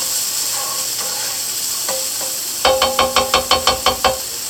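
Squash frying in olive oil in a pan sizzles steadily, then a utensil stirs it with a quick series of about nine sharp, rhythmic scrapes and knocks against the pan, close and loud, with no talk.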